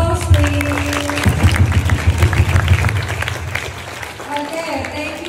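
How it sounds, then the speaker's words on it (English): Audience applause at a school English club demo, a dense burst of clapping mixed with voices and crowd noise, fairly loud and close, easing off toward the end. "give applause please"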